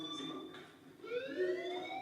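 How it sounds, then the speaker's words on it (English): A fire alarm rings inside the Life is Strange video game, a rising electronic siren-like tone that swells in after a second and holds steadily, moderately loud, with no one talking. "do you hear that fire alarm?"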